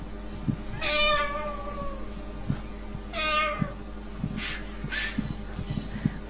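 In a Minecraft game, a cat meows twice in drawn-out, nasal calls a couple of seconds apart, followed by softer chirps, over steady background hum and faint clicks, quiet overall.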